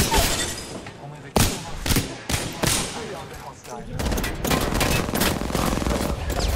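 Loud bursts of automatic gunfire and heavy impacts from the shooter game Apex Legends, coming in repeated volleys across the clip with voices mixed in underneath.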